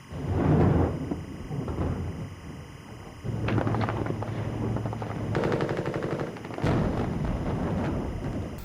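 Gunfire rings out during the 1993 shooting at the Russian Parliament: rapid bursts of automatic weapon fire and sharper reports over a constant, noisy backdrop.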